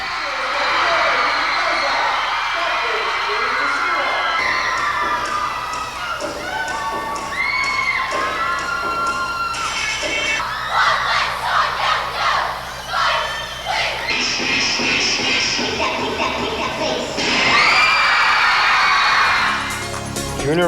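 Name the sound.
school cheerleaders cheering and crowd shouting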